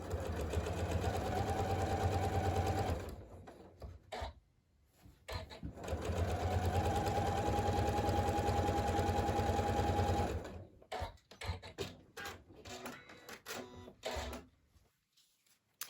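Sewing machine stitching a quarter-inch seam on fabric for a Christmas cracker, a close steady whirring hum in two runs of several seconds with a pause and fabric handling noises between.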